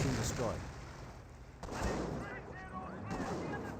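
Rifle grenades firing in Company of Heroes, heard as sharp booming shots and blasts, a few spaced bursts, mid-distance, amid battle noise with voices in the background.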